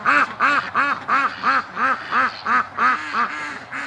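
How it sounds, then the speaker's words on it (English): Peking ducks quacking in a steady rhythm, about ten loud, harsh calls close by, one after another with short gaps. "These are big ducks."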